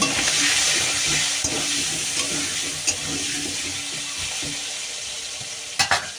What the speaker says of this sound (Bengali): আলুটা ভাজা বসিয়ে না আমি চাল ধুতে যাব